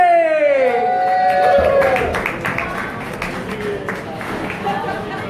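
Crowd at a Glasgow food bank fundraiser gig claps and cheers loudly as a comedian takes the stage, steady dense applause with whoops rising over it, close and sustained throughout.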